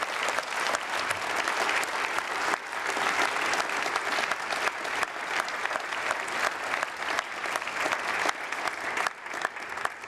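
An audience at an awards ceremony in Calgary applauds steadily, a dense, even wash of clapping from many hands that continues throughout with no break.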